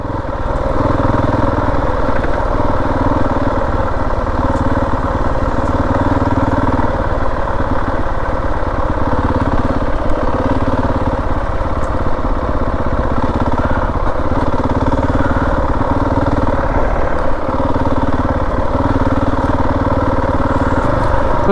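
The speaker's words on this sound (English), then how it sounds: "I'm cruising in second gear, but now I know why people always say that you can't ride in first gear, because the feedback on the throttle is crazy on this bike" Motorcycle riding in second gear on an off-road adventure route in Croatia, a steady loud engine drone with rough mechanical clatter running continuously and close throughout, no talking.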